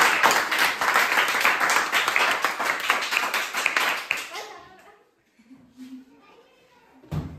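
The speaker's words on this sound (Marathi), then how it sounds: "राजनंदिनीसाठी पुन्हा एकदा टाळ्या होऊ द्या" A group of students clapping for a classmate, brisk dense applause for about four seconds that then fades into a quiet room with faint voices.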